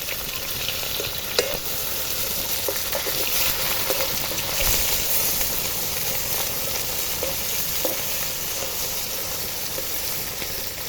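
Crab-shaped pitha are flipped in hot frying oil, giving a continuous loud sizzle and hiss, with a few faint clinks and taps from the utensil. No one speaks.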